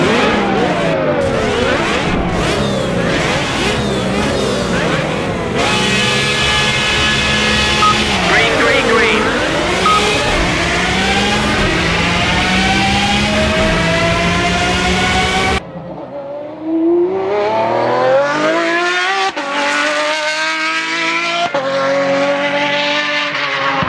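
Race car engine from the Project Cars racing game, revving hard with rising and falling pitch through gear shifts, tires squealing, then a quieter stretch of engine drone after a brief drop, loud and continuous throughout.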